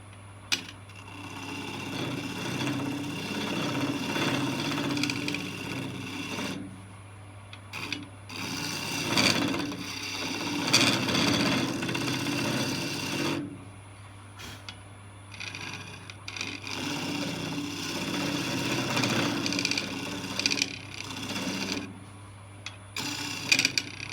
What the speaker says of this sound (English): I'll use this tool, which is the carbide, just to get it a little bit deeper and just clean it up a little bit